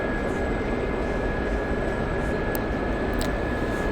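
An Aérospatiale Gazelle helicopter in the DCS flight simulator cruises along the Black Sea coast, a constant broadband engine and rotor roar with a steady high whine, unbroken and even with no talk.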